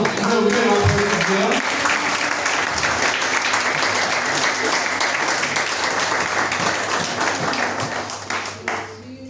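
A church congregation at a Sunday service bursts into loud sustained applause, with a voice speaking over the start, then steady clapping that gradually tapers off near the end.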